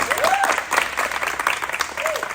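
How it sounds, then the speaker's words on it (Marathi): A crowd claps steadily throughout, a dense, lively round of applause with a few whistles cutting through. "एकदा जोरदार टाळ्या वाजवा"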